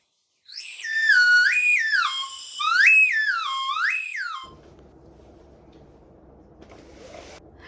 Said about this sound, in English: Otto's got a whistle pop.